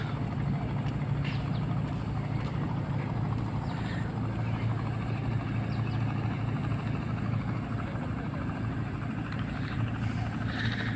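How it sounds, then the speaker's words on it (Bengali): A motorised trawler boat passes on the Jamuna river, its engine a steady, continuous low drone that stays even throughout with no break. "আর এই যে ট্রলার যাচ্ছে"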